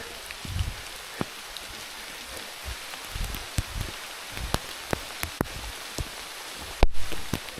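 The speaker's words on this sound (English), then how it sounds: "the rain's just letting up after it totally poured for the last couple minutes up the hill here" Rain patters steadily on a mountain trail near Lukla, with scattered close drops and taps over a soft hiss and an occasional louder knock.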